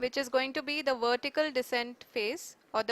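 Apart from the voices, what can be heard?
None of the usual background noises is heard.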